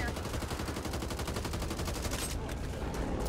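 Sustained SMG fire in a shooter video game, a rapid unbroken stream of shots lasting several seconds, loud and close, with a brief thinning near the end.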